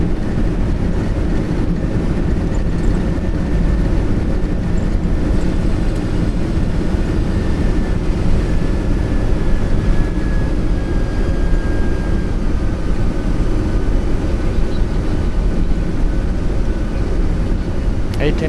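A classic ex-British Airways Boeing 747 rolls out after landing with reverse thrust, a loud, steady roar and rumble of engines and wheels heard from the cockpit, with a faint tone sliding downward partway through.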